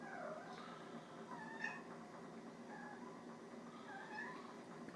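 Tabby cats indoors, one of them a female in heat, giving several faint, drawn-out meows and wavering calls spread across the stretch over a steady low background hum, with no talking.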